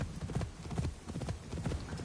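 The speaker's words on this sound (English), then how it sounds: "So let's grab a horse" Horse hooves clip-clopping in the video game Assassin's Creed Shadows, a steady, quick rhythmic trot of fairly faint hoofbeats with no talk over them.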